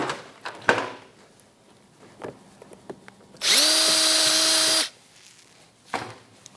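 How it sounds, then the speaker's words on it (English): A power drill whirs steadily for about a second and a half, close and loud, its pitch rising as it spins up, surrounded by quiet handling noises, drilling at an angle into a Polaris AXYS snowmobile. "I put the drill on a slight angle."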